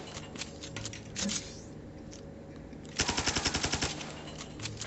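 A shooting video game sends out bursts of gunfire, with scattered shots and then a fast, loud run of automatic fire near the end.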